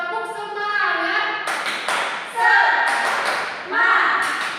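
Schoolchildren in a morning classroom ice-breaker chant together in voiced bursts, punctuated by loud group clapping in rhythmic clusters.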